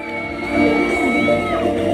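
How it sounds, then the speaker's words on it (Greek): A crowd at a 3x3 basketball tournament cheering and whooping, with loud mixed voices and shouts rising midway and holding steady until the end. "Πάμε κι άλλο χειροκρότημα"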